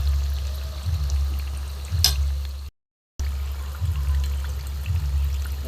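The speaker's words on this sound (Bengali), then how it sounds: "ভালো করে ভেজে নাও সব কটাকে" Ash gourd pieces fry in a pan with a low, steady sizzle and occasional soft stirring scrapes and thuds, close by, broken by a brief moment of silence midway and with no voices.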